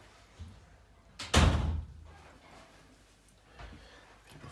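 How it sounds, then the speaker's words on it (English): A door is shut with a single solid thud in a quiet room, one close, fairly loud impact followed by faint room noise and a softer knock later. "I'll just shut the door"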